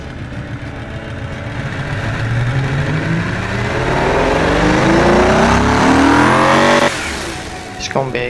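A custom-built tank engine in the Automation game revs upward in a rising, throaty sweep, loud and close, then cuts off sharply before a brief tail of noise.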